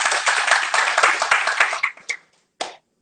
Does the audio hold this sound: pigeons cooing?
no